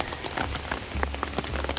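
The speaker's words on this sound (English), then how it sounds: "we're going to be walking it in the rain. So I'm under the umbrella." Rain drums steadily on an umbrella held overhead on a Colorado Trail hiking path, a dense near patter of drops with sharper individual hits scattered throughout, with no talk.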